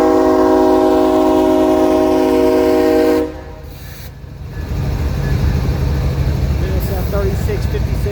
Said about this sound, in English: New ET44 ACHs BNSF 3656 and BNSF 3627 would be the head-end power for this train.